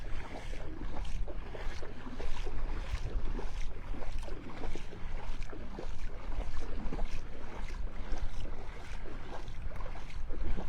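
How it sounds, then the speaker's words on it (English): Steady wind gusting and buffeting across an open Gulf beach at Delnor-Wiggins in North Naples, Florida, with a constant rumbling roar and faint surf, no talking. "Yeah, it's breezy here when you get out from behind the cover of all the trees."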